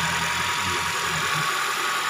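A Toyota Camry hybrid's engine idling, a steady close hum with a broad hiss over a low rumble, heard alone without talk.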